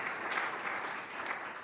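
An audience applauding at a school district state-of-the-schools address, a dense continuous wash of many hands clapping, moderately faint and even throughout the short stretch.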